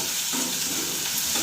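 Garlic and green chillies sauté in a pan with a steady, close frying sizzle, an even hiss with no pauses or voices.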